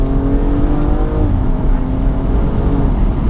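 A 2016 BMW M235i sports car engine in Sport Plus mode drones loudly and continuously from inside the vehicle, a strong rising hum as it accelerates under steady road noise.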